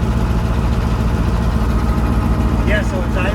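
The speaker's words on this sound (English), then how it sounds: "see, it's idling like it should now." A tractor engine idles steadily and evenly after a fuel pump repair, a loud, close, continuous low rumble with a brief voice sounding near the end.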